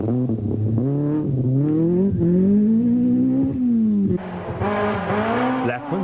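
A rally car runs a stage at the 2004 Great North Rally. Its engine revs close and hard, the pitch climbing and dropping through gear changes, with a burst of gravel and tyre noise near the end.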